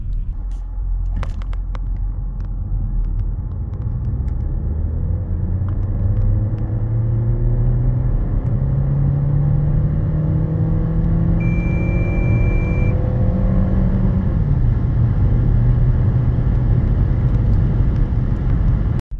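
A Renault Symbioz E-Tech 145 full hybrid car accelerates hard to 100 km/h, its engine and road rumble rising steadily in pitch over about nineteen seconds with a brief shift-like drop near the end, loud and continuous with no talk.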